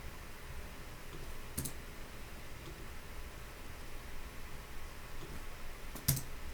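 Computer keyboard and mouse clicks while deleting items in Figma: two sharp isolated clicks, one early and one near the end, over a faint steady room hiss with no talking.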